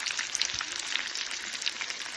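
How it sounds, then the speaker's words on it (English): Steady, close sizzling of breaded stuffed chicken breasts frying in a hot skillet, a dense crackle with small pops throughout and no voices. "the chicken sizzling in the pan"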